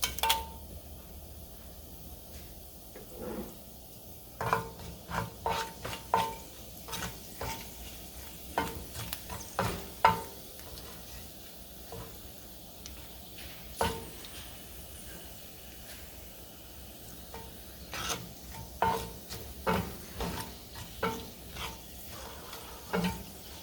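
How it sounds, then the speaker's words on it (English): Cumin seeds and two red chilies sizzle steadily in hot oil over a medium flame, a soft continuous frying hiss broken by frequent scraping stirs and crackles, close and alone. "when the oil is warmed up, I will add those cumin seeds first and 2 red chilies"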